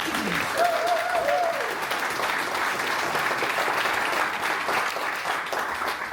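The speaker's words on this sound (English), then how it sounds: "Give them a nice round of applause." Sustained crowd applause at a speech, a steady dense clatter of many hands clapping across a hall, with a brief whoop near the start.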